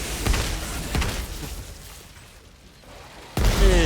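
Explosions in the shooter game Outriders, with enemies being blown apart: several booming bursts in a row, then a rumbling lull and another sharp, heavy blast at the close.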